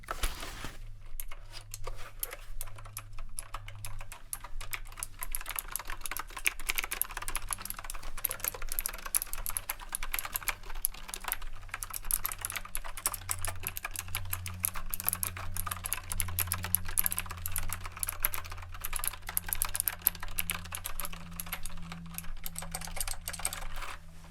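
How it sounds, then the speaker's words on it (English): Rapid typing on a freshly dust-cleaned keyboard, a continuous flurry of crisp clicky key presses close up, steady throughout with a faint low hum beneath and no voices. "This keyboard typewriter has had all the dust removed, so now you're going to hear a significant difference with the keys"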